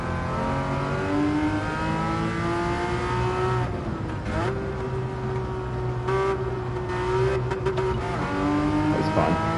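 A Porsche Cayman's engine in Gran Turismo 7 revs high and steady as the car accelerates, with the pitch dropping briefly at gear changes and climbing again, loud and close, with a faint tire squeal.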